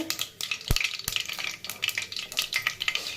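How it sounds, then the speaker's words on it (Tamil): Mustard seeds crackle and splutter in hot oil in a pan while cooking vegetable rice, giving dense, continuous sizzling with sharp pops and a few louder cracks, close and fairly loud. "கடுகு பொரிச்சு வந்துருச்சுங்க. இப்போ கேட்குதுங்களா?"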